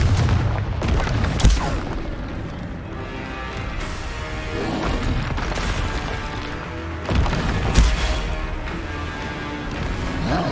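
Confringo blasting spells go off in Hogwarts Legacy as heavy booming explosions, several loud impacts spaced seconds apart over a dense layer of combat clatter and rumble.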